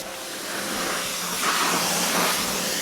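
A steady, broad hiss of water spraying from a hose onto a Honda CB450 motorcycle, growing slightly louder and harsher as the jet hits the bike.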